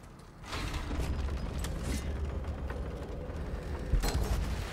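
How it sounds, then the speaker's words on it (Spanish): A heavy door grinds open in the video game God of War (2018), with a continuous mechanical rumble, scraping creaks and a few sharp clunks and knocks, fairly loud and with no voices. "Vamos a abrir la puerta."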